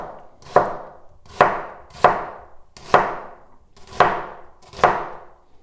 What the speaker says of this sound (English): It's a good sharp knife sound.